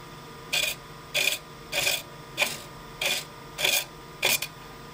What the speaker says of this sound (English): If you open up, or if you present the gouge with the flute open, it will skate over.